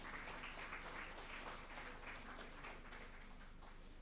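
An audience claps steadily and evenly at a ceremony announcing the results and DSE listing of a community bond, with NMB bank taking part; the applause sounds distant and faint, and no one speaks over it.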